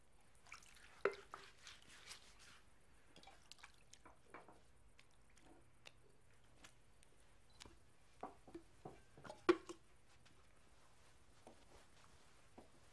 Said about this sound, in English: Then he poured some water into a wash basin and began to wash the disciples' feet and dry them with the towel around his waist.